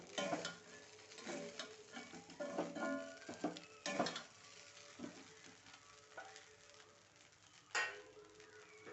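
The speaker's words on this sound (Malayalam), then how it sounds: "നന്നായി ഇളക്കി കൊടുക്കുക. ഒന്ന് ചൂടാകുന്നവരേക്കും ഒന്ന് ഇളക്കി കൊടുക്കുക." Flattened rice upma (aval upma) is stirred in a hot pan, with irregular spoon scrapes and clinks and a faint sizzle underneath, loud in some bursts and quiet between them.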